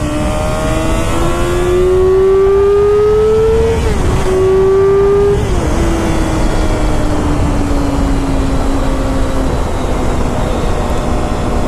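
A 2006 Yamaha R6 50th Anniversary edition 600cc sport bike engine screams close and loud, pitch climbing through the gears with brief dips at shifts around four and five seconds, then holding a high, slowly falling whine.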